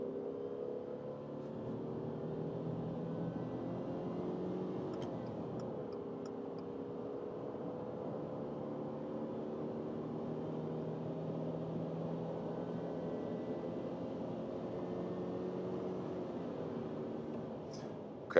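A Subaru Forester hybrid accelerates in sport mode, heard from inside the cabin as a faint, steady drone whose pitch climbs slowly throughout the run.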